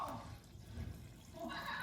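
Hot water poured into a well in a flour mixture for baguette dough, a soft, brief liquid splash and trickle heard alone at close range.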